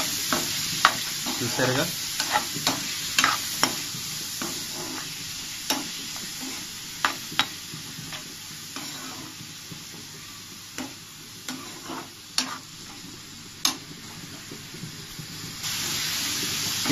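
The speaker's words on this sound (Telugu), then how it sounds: "ఈ ఉల్లిపాయలు అవి త్వరగా వేగుతాయి" Onions sizzling and frying in a pan for a dry fish egg curry, with steady close hiss broken by frequent sharp stirring scrapes, and a brief spoken phrase near the end.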